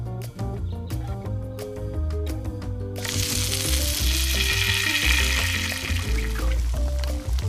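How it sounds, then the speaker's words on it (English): Butter sizzling in a hot pan while pancakes cook, a steady frying hiss that swells from about three seconds on, heard under continuous background music. "You see how it's sizzling?"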